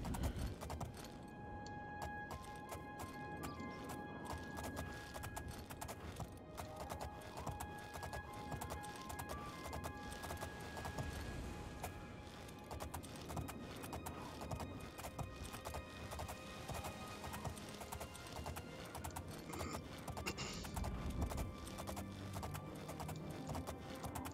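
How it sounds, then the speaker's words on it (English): Horse hooves clip-clop steadily from a black horse ridden in a video game, a continuous rhythmic patter over a dense game soundscape. "My black horse."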